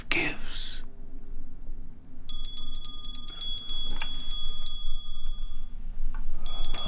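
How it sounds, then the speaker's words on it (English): Bright, ringing bell strokes with long sustained tones in a Macbeth scene, sounding twice between soft whispered speech, over a low room hum. "The bell invites me."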